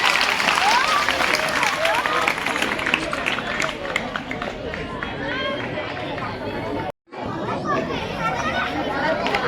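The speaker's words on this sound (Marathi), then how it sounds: "जोरदार टाळ्या ताईसाठी" Applause at a school ceremony honoring a former student, a crowd of many hands clapping steadily and loudly amid children's chatter and lively voices, broken by a brief cut near the end.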